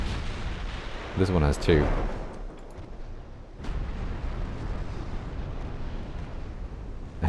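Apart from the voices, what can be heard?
light cruiser launching torpedoes in naval video game Ultimate Admiral Dreadnoughts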